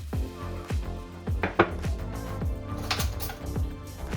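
A knife cuts mozzarella into four slices for homemade Cajun-spiced burgers, giving a series of sharp, close chopping knocks against a board, with light clatter between strokes.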